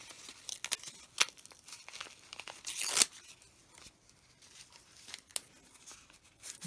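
Backing paper is ripped off a 5-inch AccuQuilt Go! fabric cutting die in a series of short, crisp tearing and crinkling bursts, close and fairly quiet, with one louder rip midway and no talking.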